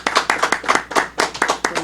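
A temple meeting audience in Detroit gives a minister another round of applause, sharp close claps in a steady, fairly loud rhythm throughout.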